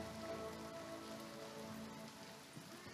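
Steady rain pattering on surfaces in the Kowloon zombies map of Call of Duty Black Ops III, a soft continuous hiss heard alone without voices.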